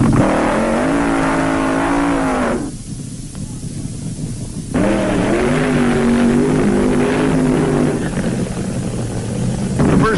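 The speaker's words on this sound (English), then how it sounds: "Suddenly it was time for the funny cars, and some wild ones burned out of the staging area" Funny car drag racers burning out of the staging area at a 1970s drag strip, loud sustained engine roar with rising and falling revs, a short drop in volume midway before the howl resumes.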